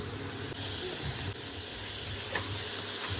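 Onion, green chili and tomato sautéing in a pan for a peppery mushroom roast, a steady close sizzle with faint scraping throughout and no talking.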